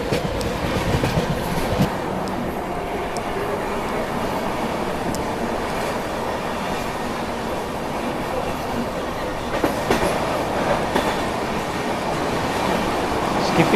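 The Ranchi Rajdhani Express rolls along the rails at speed, a loud, steady rumble and clickety-clack of wheels filling the whole stretch, with brief squeals and louder clatters near the end.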